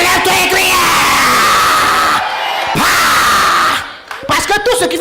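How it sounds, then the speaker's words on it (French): A church congregation shouts and yells together at a French-language service, a loud sustained roar of voices that drops briefly, swells again, then fades before scattered cries return. "si tu reçois cela, lève-toi et crie."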